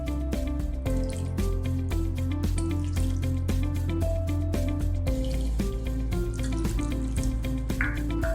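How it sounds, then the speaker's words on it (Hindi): Water poured in scoops into chole paste in a cooker, with drips and splashes over a faint sizzle and soft background music. "अब साथ ही साथ में इसमें हम पानी भी डाल देंगे।"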